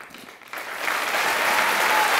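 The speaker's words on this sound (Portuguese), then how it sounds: "Eu queria pedir só mais um aplauso para todos que estão aqui presentes" Audience applause at a Christmas comedy show, starting soft, then jumping to loud, dense clapping from a full room that holds steady to the end.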